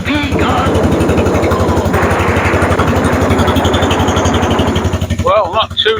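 A small engine running rough on full choke with no air filters fitted, a loud close rapid chugging pulse that holds steady before cutting out near the end, with speech over it.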